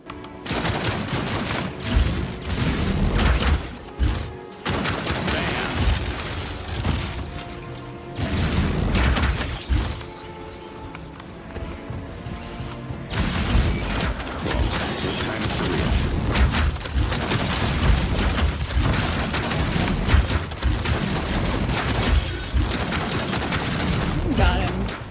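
Gunfire in Outcast: A New Beginning cracks in dense, rapid volleys for about twenty-five seconds, loud and close, broken by a couple of brief lulls amid other game effects.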